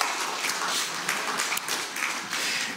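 Congregation applause at a Spanish-language church sermon, a dense steady wash of clapping held at even loudness for a few seconds, with no clear talk over it.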